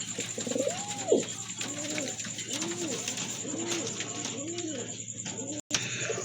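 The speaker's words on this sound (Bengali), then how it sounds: "এটা কিন্তু আপনার খুবই সুন্দর এক জোড়া কবুতর আপনারা নিতে পারেন বিগ সাইজের কবুতর" A pair of large pigeons coo repeatedly in a steady rhythm, about six rounded calls close by, over a constant low hum with a brief dropout near the end.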